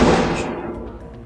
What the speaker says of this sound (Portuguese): Eu fiquei parado porque estourou um rojão agora na rua.